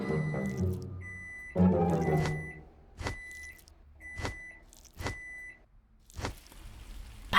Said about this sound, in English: The microwave suddenly went crazy.